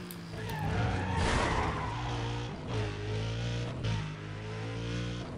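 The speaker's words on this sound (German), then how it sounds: "Und ich hau das Ding erstmal gegen eine andere Karre." Car collision in the racing video game Need for Speed Undercover, with loud engine roar and tire skidding building into a crunching impact, then continued engine drone.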